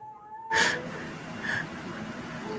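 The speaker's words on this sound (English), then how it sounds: "Do I hear the cat?" A black cat lets out a sudden loud meow close by, followed a second later by a second, softer call against a quiet room background.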